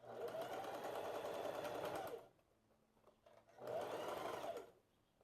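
A sewing machine stitches a blouse lining seam in two steady whirring runs separated by a short pause, close and fairly loud with no talking.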